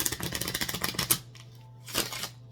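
A deck of cards is riffle-shuffled in a fast burst of crisp flutters lasting about a second, followed by a soft shuffle of cards.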